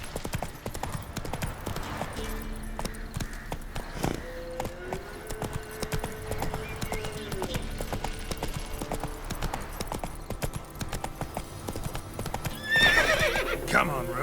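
Hooves of Roach, a horse in The Witcher 3: Wild Hunt, clip-clop in a steady galloping rhythm throughout, with a whinny near the end, set over game music and ambience.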